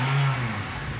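A Ferrari engine revs loud and close, a deep throaty growl that peaks early and then settles into a lower, steadier drone over one second.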